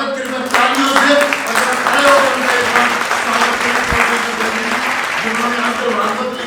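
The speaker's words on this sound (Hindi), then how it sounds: "उनका बहुत जोरदार स्वागत कृपया तालियों से" An audience applauds to welcome Maharshi Bedil at a TV serial event, a loud continuous wash of clapping from many hands with a voice talking over it.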